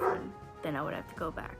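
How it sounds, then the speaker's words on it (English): A pet dog barks and yips excitedly in the background of a home, a few short high-pitched barks under a person speaking in the foreground. "Excuse the dog in the background, he's losing his mind because he barks at the air."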